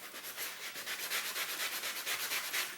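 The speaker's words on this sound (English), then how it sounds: "I'm not sure what grit this sanding sponge is." A sanding sponge of medium to medium-fine grit rubs over a Sprite Zero aluminum soda can, a steady close scratchy abrasion with rhythmic back-and-forth strokes and no talking.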